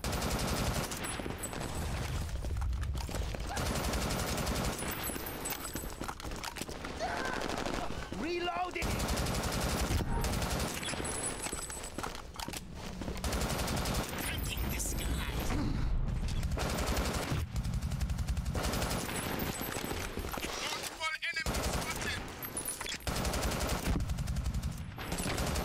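Sustained automatic gunfire in the first-person shooter Brink, dense rapid bursts nearly continuous for about twenty-five seconds with only brief pauses, loud and close, with voices now and then under the shooting.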